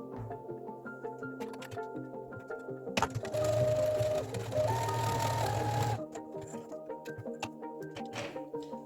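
A sewing machine stitches pockets onto a skirt in one steady three-second burst of fast whirring, set between quieter handling noises and faint clicks.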